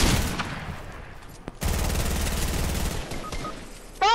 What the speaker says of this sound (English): He's gonna shoot Jacob, he's gonna shoot Jacob.